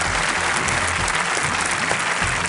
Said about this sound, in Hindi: तालियों के साथ उनका स्वागत